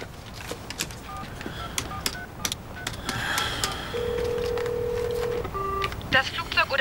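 A telephone keypad is dialed to reach a Boeing 747 in flight: a quick run of short electronic tone beeps, then a long steady tone and a few more beeps, heard up close over faint background voices.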